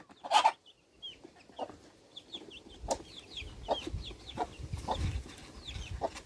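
A hen guarding her chicks clucks repeatedly in short bursts, with other birds chirping in the background and some low rustling.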